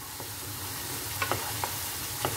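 Tomato sauce sizzling in a frying pan, a steady hissing bubble punctuated by several sharp little pops and splatters, close and moderately quiet.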